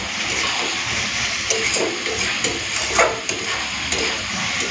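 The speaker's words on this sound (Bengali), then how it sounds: "ডিম আর আলুটা একটুখানি কষে নিই" Fried egg and potato sautéed with spices in a pan, a steady dense sizzle with light, irregular stirring scrapes and taps throughout.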